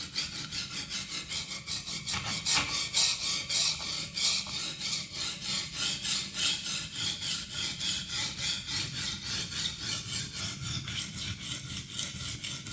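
A blade is drawn back and forth across an Atoma 140 diamond plate to form a new bevel, a close, even rasping scrape repeating in quick regular strokes for the whole stretch, with no talking.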